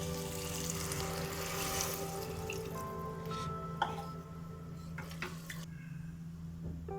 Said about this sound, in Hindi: मैंने 1 कप चावल लिया था तो मैं इसमें 2 कप पानी डालूंगी।